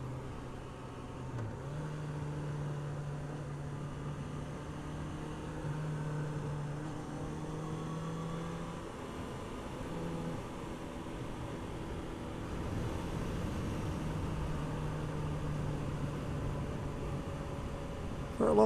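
Honda CB650F motorcycle cruising along quiet back roads, its engine a steady mid-level drone with wind rush, pitch shifting slightly as the rider changes speed, continuous throughout without talk.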